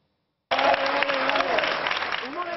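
Applause from the future members of the new Renoir cinema in Palma, a steady burst of clapping from a gathered group that starts abruptly and carries on evenly, with a voice heard faintly beneath.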